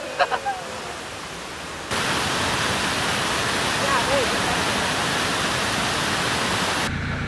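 Pha Tat waterfall roaring as a steady, loud broadband rush of falling water that starts abruptly after a brief quiet moment and continues unbroken.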